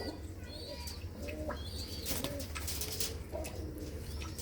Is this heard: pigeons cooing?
yes